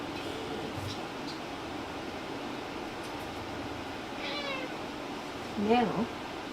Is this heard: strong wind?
no